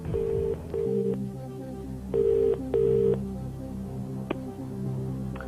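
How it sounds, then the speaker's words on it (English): A landline telephone call placed from a TV quiz show studio: a sequence of loud, clean electronic dialing tones in short paired bursts, followed by a faint ringing tone, with no talking. "Okay, we'll phone Mark."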